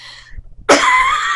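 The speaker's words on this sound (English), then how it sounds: "I shouldn't laugh because it makes me cough" A single sharp cough bursts out after a brief quiet moment, loud and close, from someone with a stuffy nose and a respiratory illness.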